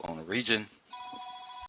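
A telephone rings in a meeting room, its steady electronic tone sounding continuously for nearly a second right after a voice falls silent.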